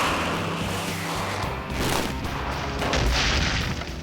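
A rocket sled travelling at about 700 miles an hour slams into an immovable object, giving a loud, sustained booming crash with rumbling low-end roar that swells again toward the end.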